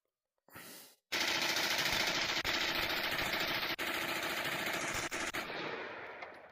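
Sustained automatic gunfire at a shooting range in the VRChat virtual world: a brief rattle, then a dense, loud, unbroken burst that runs for several seconds with small gaps before easing off.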